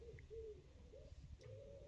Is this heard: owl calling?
yes